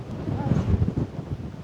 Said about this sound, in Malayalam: എന്തൊരു കാറ്റാണ്